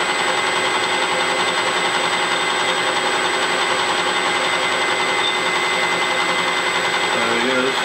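Metal lathe taking a clean-up cut along a bar stock, a continuous steady whirring hum with a high whine throughout and slight wavering near the end.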